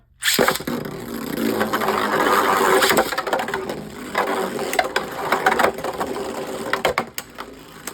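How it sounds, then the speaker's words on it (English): Beyblade Burst spinning tops Forneus and Ripfire Forneus clashing in a plastic stadium, a close, loud rattling whir with sharp repeated clicks and knocks that fades toward the end. "Both Beyblades going hard."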